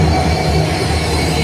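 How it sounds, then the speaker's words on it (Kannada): Delhi Intercity Express train on the Panipat route in Haryana, a loud continuous rumble of wheels on rails with a faint squeal and steady roar, close by and without voices. "ಇದು ಅದೇ ಟ್ರೈನ್ ಇದೆ, ಡೆಲ್ಲಿ ಇಂಟರ್ಸಿಟಿ ಎಕ್ಸ್ಪ್ರೆಸ್ ಅಂತಕ್ಕಂಥದ್ದು."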